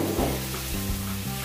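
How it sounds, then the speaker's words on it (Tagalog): Onion, garlic and tomato sauté in a pan for pork pochero, giving a continuous close sizzle with a few stirring scrapes and low pan hum, no talking. "So gigisahin lang natin ito hanggang madurog ang ating tomato."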